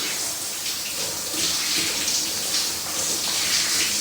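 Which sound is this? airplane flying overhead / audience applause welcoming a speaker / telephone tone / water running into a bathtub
water running into a bathtub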